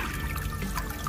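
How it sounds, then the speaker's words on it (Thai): Water from an aerator in a hydroponic nutrient tank splashes and trickles like a small waterfall, a steady close wash of liquid noise with no talking. "เพิ่มตัวนี้เข้าไปจะได้ยินเสียงเหมือนน้ำตกนี่นะครับ"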